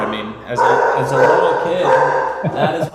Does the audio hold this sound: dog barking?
yes